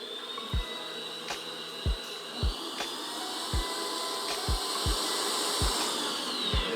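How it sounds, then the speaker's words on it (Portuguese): An electric stand mixer on medium speed whipping egg whites for a carrot cake, a steady close motor whine with repeated dull knocks of the whisk against the bowl, no voices. "Eu vou colocar aqui na nossa batedeira na velocidade 3."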